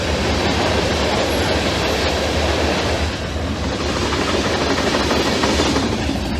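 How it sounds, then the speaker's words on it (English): A very long train rumbles past with a loud, steady roar and rattle that carries on without pause. "Really long trains."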